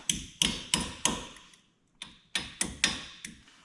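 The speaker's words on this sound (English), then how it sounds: "And then usually using a hammer," A hammer taps down a cotter pin during brake service on a Polaris vehicle: sharp metallic taps, close and clear, in two quick bursts of about five strikes each, separated by a short pause.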